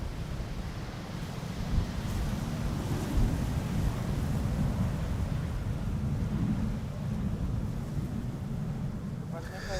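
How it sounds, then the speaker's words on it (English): Steady gusty wind buffeting the microphone beside the Polderbaan runway at Amsterdam Schiphol during crosswind landings, a continuous low roar with occasional louder bumps throughout. "Yeah, wind is picking up."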